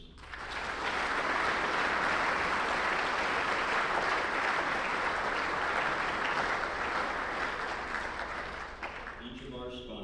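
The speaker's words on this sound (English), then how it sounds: "Let's give a round of applause for all our competition sponsors." Sustained applause from a banquet audience at a student design competition, honoring the competition sponsors; loud, dense clapping that holds steady before tapering near the end.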